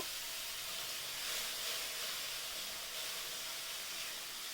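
A paste of mustard, poppy seed and green chili sautés in a pan with panch phoron for a hilsa and eggplant curry, making an even, soft hiss that holds steady throughout with no talking.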